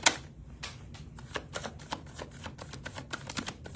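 Close, steady tarot card shuffling: rapid riffling and flicking clicks repeating for several seconds, with no voices.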